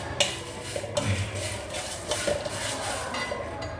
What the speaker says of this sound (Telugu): ఇలాగ ఎగుతూ ఉన్నాయి కదా, మెంతులు చూసారా చిట్టపట్టామంటున్నాయి కదా